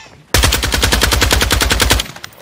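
A loud, close burst of rapid automatic gunfire in Modern Warfare 2 beta gameplay lasts under two seconds with an even machine-gun rhythm, then stops abruptly.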